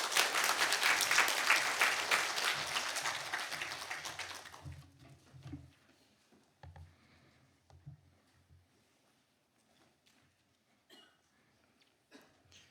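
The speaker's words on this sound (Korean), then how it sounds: "나오실 때 큰 박수로 환영하도록 하겠습니다" Church congregation at a Sunday morning service clapping loudly to welcome Pastor Kang Shin-cheol of Postech Church, the applause fading out after a few seconds into quiet room sounds, shuffling and a cough.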